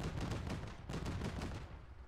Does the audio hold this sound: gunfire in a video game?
yes